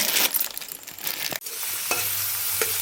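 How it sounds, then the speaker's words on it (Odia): Onions fry in a pan, sizzling steadily with stirring scrapes and a sharp clatter partway through. "ବସିକି ପିଆଜ ଭାଜୁଛି"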